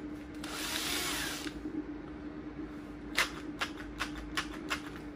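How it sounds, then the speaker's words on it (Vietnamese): A cordless drill with adjustable torque works screws while a Sharp air purifier is taken apart, giving a loud whirring burst early on, then a series of short clicking, ratcheting bursts from close by. "Đơn giản đó là mình ưa dùng bằng máy khoan ha."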